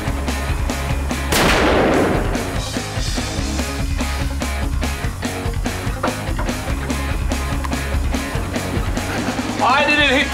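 Heavy gunfire from a Raging Bull revolver at a shooting range, with loud sharp reports scattered through the clip over a busy, noisy background.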